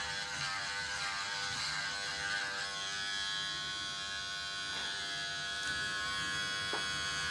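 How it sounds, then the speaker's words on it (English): A Brio Beardscape V1+ electric beard trimmer runs without a break, a close, steady high-pitched buzz with little change over several seconds. "So very, very soft and smooth shave right there off of this beard trimmer."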